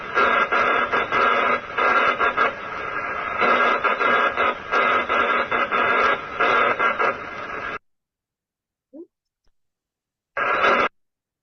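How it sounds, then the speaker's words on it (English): Titanic's distress message in Morse code plays as a dense, steady run of radio-like tones for several seconds, then stops, leaving near silence with brief faint blips and one short final burst. "And here's the message that they tapped out in Morse code."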